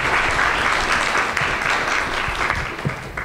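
An audience at an academic session applauds the presenters, a dense, even round of clapping from many hands that holds steady throughout.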